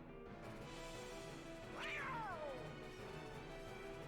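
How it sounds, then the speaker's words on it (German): A cat meows in a Kingdom Hearts Birth by Sleep boss fight, one drawn-out falling meow over game music and background sound effects. "Ventus gegen eine Katze. Mit Namen Lucifer."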